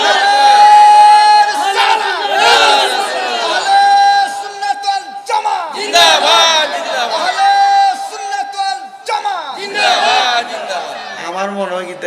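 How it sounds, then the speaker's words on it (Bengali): A large crowd at a Bengali religious sermon shouting a takbir together, loud and close, in repeated chanted waves of massed voices rising and falling in a call-and-response rhythm. "জবানটা খুলে একটা তাকবীর দেন।"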